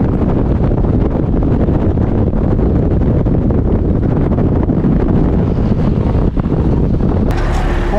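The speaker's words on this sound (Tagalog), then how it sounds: "Parang hangin na dala ng malakas na bagyo ang sumagupa sa amin." Strong, typhoon-like wind roars steadily into the microphone while a cyclist crosses Quirino Bridge in Ilocos Sur, a constant loud rumbling buffet with no talking.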